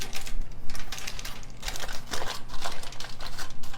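Paper crinkles and crackles as it is pressed into a baking dish and folded over the sides for lemon bars, a close, busy run of rustling bursts with no talk.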